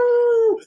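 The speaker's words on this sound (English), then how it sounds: "Is that Sip's dog? No. It sounds like it." A dog gives a single loud, close, sustained howl with a steady tone that trails off near the end, heard alone without talk.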